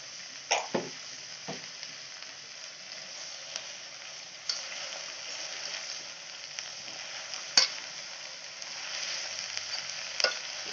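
A spinach pulao mixture fries in ghee in a pan, a soft continuous sizzle with occasional sharp clicks of a spoon against the pan, close and quiet, no voices.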